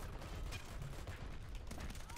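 Gunfire in the online shooter Dirty Bomb, a dense rattle of shots and clanking mechanisms filling the whole stretch at low level, with voices talking over it.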